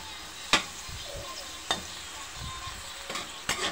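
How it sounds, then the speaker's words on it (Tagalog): Papaya and chayote tops sautéing in hot oil, a soft steady sizzle punctuated by several sharp spatula knocks and scrapes against the pan, close and with no talk. "Yan, igisa lang natin to guys."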